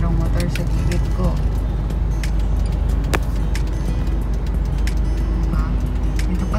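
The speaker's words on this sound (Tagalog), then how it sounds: "Tapos merong motor sa gilid ko." A motorcycle and other vehicles pass close alongside on a busy highway-like city road in Cavite City, a steady loud roar of engines and tire noise with occasional horn-like tones.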